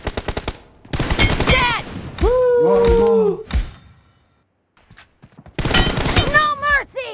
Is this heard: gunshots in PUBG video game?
yes